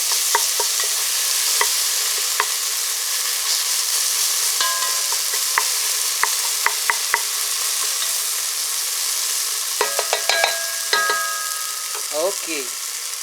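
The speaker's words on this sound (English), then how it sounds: "I'll try to help the process by breaking up the tomatoes into" Tomatoes frying and being stirred and mashed in a pan for South Indian tomato rice, a steady close sizzle with scattered utensil scrapes and clinks throughout, no talking.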